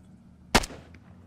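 A single sharp gunshot with tracer rounds in a military video game cracks out loudly against a quiet low hum, followed by a brief decaying tail and a faint secondary report.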